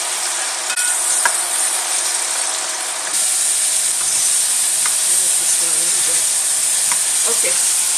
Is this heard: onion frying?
yes